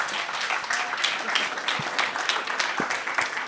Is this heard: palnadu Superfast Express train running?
no